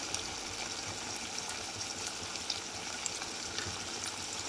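Mutton with spices and coriander powder sizzling in a pan, a steady dense crackle with small pops throughout, close and even with no talking.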